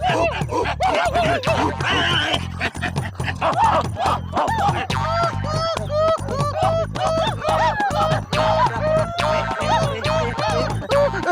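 A dog named Moti on a television comedy set gives a rapid run of loud, close yips, whines and short barks, repeating without pause across the scene.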